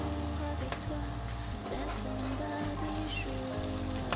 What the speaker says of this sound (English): You'll want to saute these vegetables for about 5 minutes